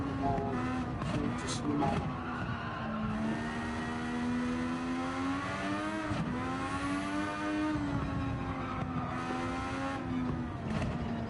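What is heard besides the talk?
race car engine driving a lap in video game Gran Turismo 7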